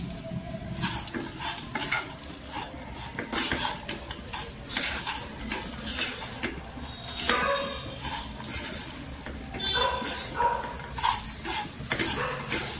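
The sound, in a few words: potato pieces with peanut powder stir-fried in oil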